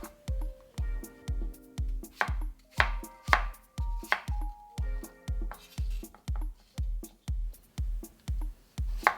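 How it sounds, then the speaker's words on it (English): Knife chops Asian pear and apple into small pieces on a board for vegan kimchi, a steady run of about twenty close, crisp thuds in an even rhythm. "Just remove the core and cut into small pieces like so."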